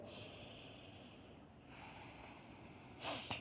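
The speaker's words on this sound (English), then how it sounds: "give me one more deep breath here" A slow, deep breath drawn during a relaxing yoga flow: a long, soft airy rush that dips briefly midway, then a sharper, louder exhale at the end, close and alone with no talking.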